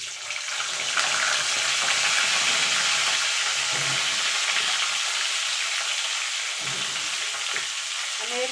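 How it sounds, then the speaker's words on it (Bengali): Cauliflower florets frying in hot oil left over from potatoes, a loud, dense and continuous sizzle with occasional stirring knocks, close up and unbroken by talk. "এবার ফুলকপিগুলো এই তেলে ভেজে নেব।"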